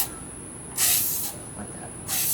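Aerosol spray paint can giving two short bursts onto a picture frame, sharp hissing puffs close by with quiet gaps between.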